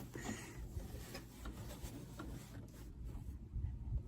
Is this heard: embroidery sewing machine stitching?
yes